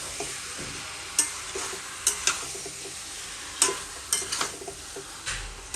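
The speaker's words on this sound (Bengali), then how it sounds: "তো এটাকে ভালো মতো আমি কষিয়ে নেব।" Chicken is stir-fried in a pan, sizzling steadily while a spatula scrapes and clinks against the metal in irregular bursts, fairly close and alone without talk.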